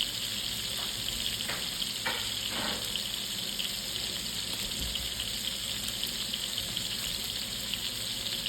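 Waterlogged frozen salmon fillets fry skin-side down in a pan in a country kitchen, giving a steady, loud crackling sizzle throughout with a few brief stirring clatters and no talking.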